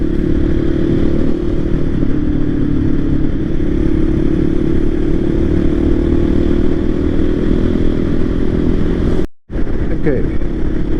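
Motorcycle riding along a road during a solo adventure crossing into Morocco, a steady loud engine drone with wind rumble that continues almost unbroken, with one brief dropout near the end.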